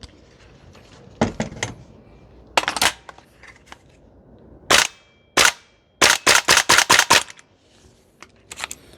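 Toxicant XM5 Sig Spear gas blowback airsoft rifle firing on a range: sharp, loud cracking shots, first a few spaced singles, then a quick string of about six rapid shots and one last lone shot.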